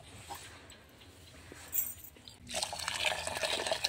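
Liquid poured into a small cup in a home kitchen while making butter buns, a soft trickle that swells into a louder, steady bright splash partway through, close by with no talking.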